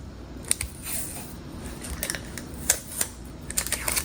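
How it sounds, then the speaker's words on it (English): Heat resistant tape being peeled off a glass surface, giving a run of small crackling, sticky ticks and short tearing bursts that come close and fairly quietly, with no talking. "I'm gonna remove the heat resistant tape first"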